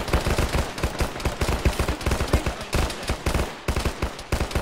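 Rapid gunfire in Arma during a trench assault, close and loud, as dense overlapping automatic bursts that keep up almost without pause.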